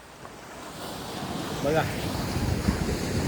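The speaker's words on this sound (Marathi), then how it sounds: "किती लाटा येतात बघा, कशा लाटा येतात खूप जास्त" Ocean waves surging onto the beach at Kille Nivti on the Konkan coast, a steady roaring wash that builds in the second half, mixed with wind buffeting the microphone and a brief voice.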